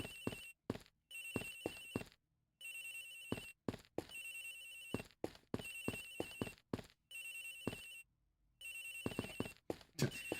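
A telephone rings in the Ace Attorney Investigations game, sounding in repeated electronic bursts with short gaps and a steady bright tone, loud and alone with no talk.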